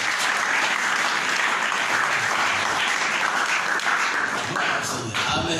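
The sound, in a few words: congregation applauding in church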